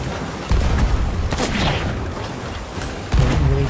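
Booming cannon blasts from a sloop in a pirate ship sailing game sound over wash and rumble, with a couple of heavy hits standing out amid continuous ocean noise.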